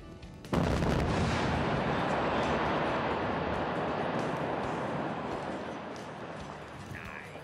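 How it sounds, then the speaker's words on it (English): A blast set off by electronic detonators erupts in a sudden loud boom, then a long, dense rumble of crashing rock and debris that slowly fades over several seconds. "2 keys must be held down simultaneously to fire the blast"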